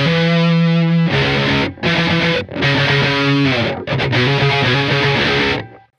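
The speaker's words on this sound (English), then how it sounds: "he has like a cocked wah, like a parked wah, and it sounds like this" A distorted electric guitar runs through an MXR Cry Baby Q Zone fixed wah parked in place, playing loud, gritty riff phrases separated by brief gaps.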